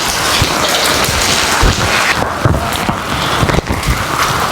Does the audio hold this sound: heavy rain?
yes